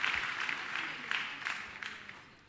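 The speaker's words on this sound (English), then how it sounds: "Let's clap for Jesus." An audience at a religious gathering applauds: a short burst of many hands clapping at moderate distance that slowly tapers off. No voices are heard over it.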